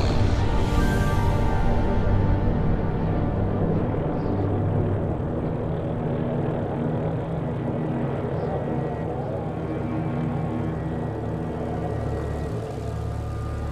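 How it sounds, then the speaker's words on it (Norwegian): Norwegian fighter planes in the 1940 air battle over Fornebu, Norway drone past as a dense, rumbling roar that fades slightly over time, heard alone without speech. "Norske jagerfly sendes opp for å avskjære inntrengerne."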